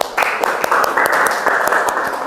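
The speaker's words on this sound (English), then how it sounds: "Give applause to the second group." A classroom of students applauds the second group with steady, close clapping that holds for a couple of seconds, individual claps standing out over the dense wash.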